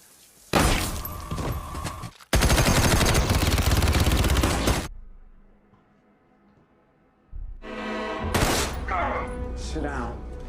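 A film shootout where a gunman fires on someone with a weapon taken from under a table: loud, rapid bursts of machine gun fire, close and harsh, then a lull and more clatter and impacts.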